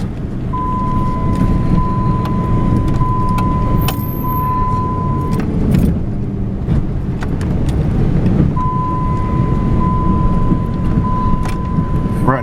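A car rolls along an unused dirt road through rural canyon property, a loud steady rumble of engine and tires with rattles, bumps and a thin high tone running through it, no talking.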